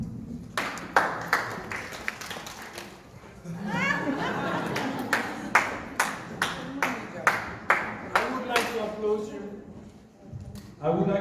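Clapping at a meeting in Warsaw, a run of sharp, evenly spaced hand claps close to the listener, mixed with speech and chatter that sit under and between the claps.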